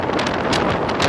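Strong winter wind gusting around a monument and swaying pines in Karaganda, roaring steadily and loudly into the microphone with rustling bursts, no voices.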